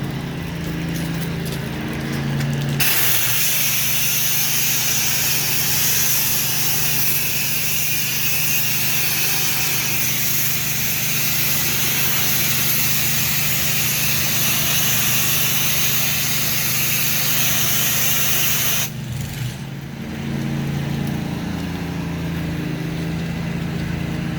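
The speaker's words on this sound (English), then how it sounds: "We're actually spraying it on with what's called NextJet." A pressure sprayer hisses loudly and steadily for a long stretch, spraying a coating onto a building over a low engine drone, then cuts off, leaving the motor running.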